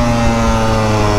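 A Beta RR 200 two-stroke motorcycle engine running: a loud, close, steady buzzing drone that holds constant for about a second, with no talk.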